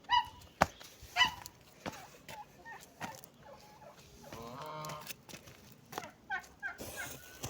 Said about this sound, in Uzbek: Bu xonaga kurka bosyapti.